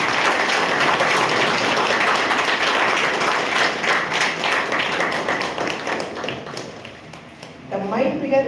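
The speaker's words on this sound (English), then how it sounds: "Give him a great applause." An audience at the launch event for a professional standards initiative applauds steadily and loudly for about seven seconds, the clapping thinning out before a voice speaks at the end.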